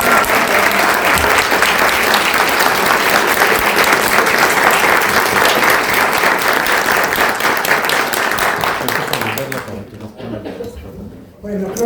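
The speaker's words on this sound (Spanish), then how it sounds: "un gran aplauso para Jacinto" A lecture audience applauds at a talk on cacao's origin and domestication in Mesoamerica, a thick, sustained round of clapping lasting about nine seconds before it thins and fades out, with some voices near the end.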